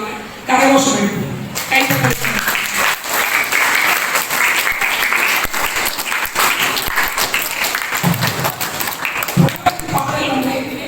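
Applause from an audience at a school Tamil literary event, thanking students after a Thirukkural presentation; sustained clapping fills most of the clip, with a brief speaking voice at the start and again near the end.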